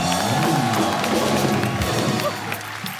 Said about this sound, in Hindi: एक बार शंकर एहसान लो के लिए जोरदार तालियां।